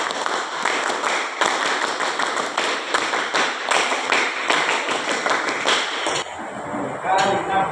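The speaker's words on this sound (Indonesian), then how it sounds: "Tepuk Pramuka." Scout group clapping in the Pramuka style, a crowd striking sharp synchronized claps in a rhythmic pattern of bursts and pauses, loud and close, ending with a brief spoken command.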